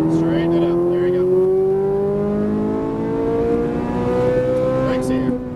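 A Ferrari 458 Italia accelerates on a race track, its engine note climbing steadily in pitch through a long pull, loud and close, while a voice speaks briefly over it.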